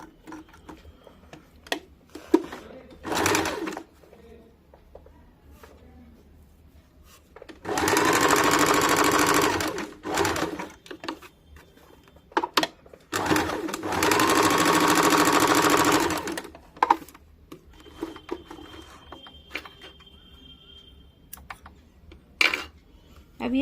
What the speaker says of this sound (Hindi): इसको हम लोग 1/2 इंच पे सिलाई कर लेंगे